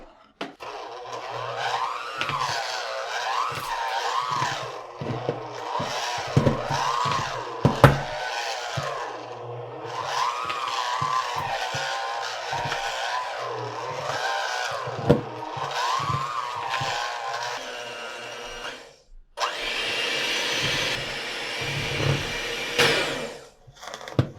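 A hand mixer whirs through cheesecake batter for an Instant Pot cheesecake, a steady motor drone with shifting pitch and clatter as the beaters hit the bowl, pausing briefly before a louder, brighter burst near the end.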